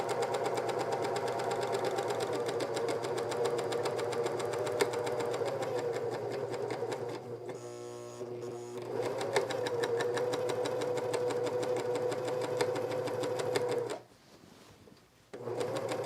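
A sewing machine that needs new needles runs steadily for most of the stretch, giving a close, rapid mechanical chatter with a faint knocking beat. It pauses briefly midway and near the end, and no one talks.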